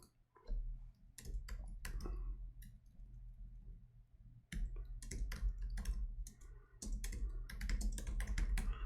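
Computer keyboard typing in quick bursts of close, crisp key clicks, with a pause of near silence midway before the clatter resumes; no talking.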